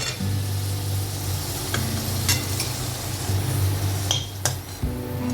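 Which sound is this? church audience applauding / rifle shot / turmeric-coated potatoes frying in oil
turmeric-coated potatoes frying in oil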